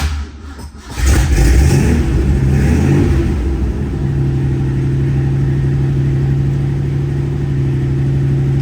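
A 1984 Shelby Cobra replica's engine cranks and fires up loudly, revs briefly, then settles into a steady rumbling idle close by.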